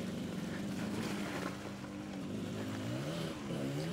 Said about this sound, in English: Oh, wow, we're riding in the stream.